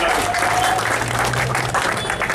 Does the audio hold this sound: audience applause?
yes